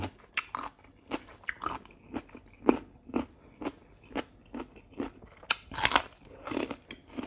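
Loud, close crunching and biting of crisp fried fish and vegetables from a papaya salad, a steady rhythm of sharp crackly bites and chews repeating through the whole stretch with no talk.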